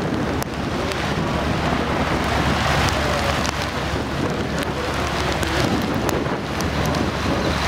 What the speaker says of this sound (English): Just as the storm is getting really bad.